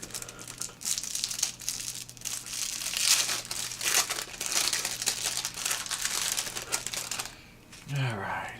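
Cellophane wrapping crinkles and crackles close up as a pack of trading cards is opened, the rustling continuous and busy, ending with a low thud.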